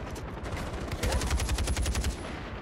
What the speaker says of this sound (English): it sounds like a light machine gun.